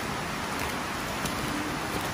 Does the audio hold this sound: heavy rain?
yes